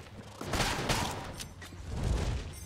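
Gunfire from a player's gun in the twin-stick shooter Enter The Gungeon: a rapid volley of punchy shots with a few sharper cracks, moderately loud and close, with a heavier boom near the end.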